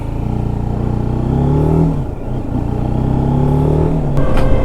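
A TVS Apache RTR 310 street fighter motorcycle engine drones loudly and steadily as the bike rides off, with a brief dip mid-run before the note climbs again with some clatter near the end.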